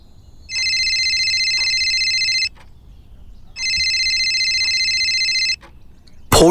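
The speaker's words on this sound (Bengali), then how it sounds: "ফোনটা দুবার রিং হতেই" A telephone rings twice at night, two long, loud electronic trills separated by a short silence, ending in a sudden burst of noise.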